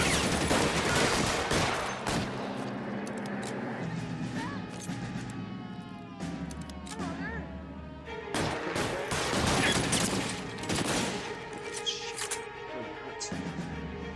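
Rapid gunfire bursts in LA Noire, loud volleys and shots with crashing impacts, coming in dense clusters separated by brief lulls over fourteen seconds.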